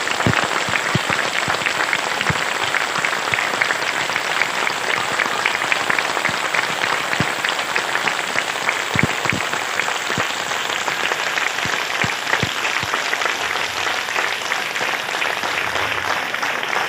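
Audience applause at a spiritual discourse by Sant Vigyan Dev Ji Maharaj: steady, dense clapping from a large crowd that keeps going without a break, sharp individual claps standing out against the wash.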